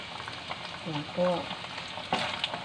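Tofu, carrot and ginger frying in a pan while being stirred, a soft steady sizzle with a few brief scrapes, close and fairly quiet.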